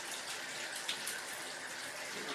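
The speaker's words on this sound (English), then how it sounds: "we let the water run a little bit so the dog gets comfortable with that" Water runs from a shower tap during a dog's bath, a soft, even hiss that continues throughout with a slight splash near the start.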